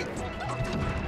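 A hard up smash attack lands in Super Smash Bros, a loud, sharp crash-like impact burst over the game's continuous background sound.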